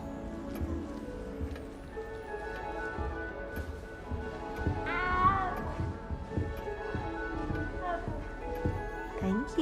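A cat meows inside the video game Hogwarts Legacy, with a short rising call standing out midway over a busy bed of game music, ambience and speech.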